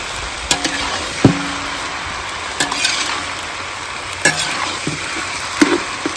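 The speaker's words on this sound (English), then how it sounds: "Stir fry." Noodles are stir-fried in a large wok, a steady sizzle punctuated by repeated sharp clanks and scrapes of the utensil about once a second, close and loud, with no talking.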